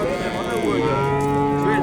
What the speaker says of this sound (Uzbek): Sigirlar.